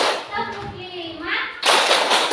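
Children clapping together in a classroom clap game, a burst of dense, loud applause-like claps starting partway through, after a stretch of voices.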